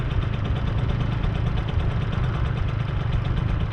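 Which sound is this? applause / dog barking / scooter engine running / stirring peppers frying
scooter engine running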